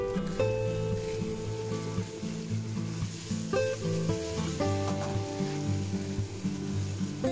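Chen Village rice noodles stir-fried in a wok with XO sauce, sesame oil and spring onion give off a steady sizzle with scraping stirs, running continuously under background music.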